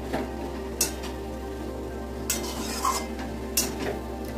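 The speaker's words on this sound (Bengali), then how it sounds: "আমি গাজরটাকে ভালো করে ঘিয়ের সঙ্গে ভাজা ভাজা করে নেব।" Carrots frying in ghee for carrot halwa, with a few sharp spatula scrapes and clinks of stirring spaced a few seconds apart over a low, steady pan background; no voices.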